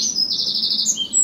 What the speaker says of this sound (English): That bird's trying to get in on my podcast.